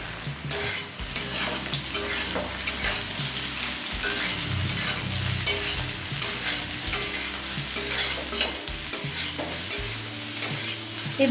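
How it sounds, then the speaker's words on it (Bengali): Chopped onions frying in a pan with already-browned potatoes for ghugni, a steady close sizzle with repeated scraping stirs of a spatula throughout, no voices. "পেঁয়াজটা একটু নরম হয়ে আসা পর্যন্ত ভেজে নেব"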